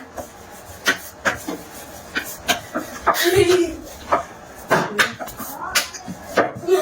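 A rolling pin works bati dough on an oiled wooden board for dal bati, giving repeated soft rubbing and knocking strokes at an irregular rhythm, close and moderately loud, with brief talk in the background.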